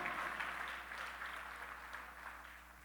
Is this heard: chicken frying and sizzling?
no